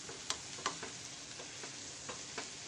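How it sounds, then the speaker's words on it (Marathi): Boiled potato pieces cooking in a pan for a cheesy toast sandwich filling give a soft, steady sizzle, with a few light ticks from stirring spaced through the short stretch, fairly quiet and with no talking. "उकडलेले बटाट्याचे जे पीस आहेत ते आपण घालून घेऊया। तर आपण याला व्यवस्थित शिजवून घेऊया।"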